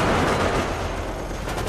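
Rapid gunfire from a shooter video game, Resident Evil: Operation Raccoon City, a dense continuous burst of automatic shots filling the mix without speech.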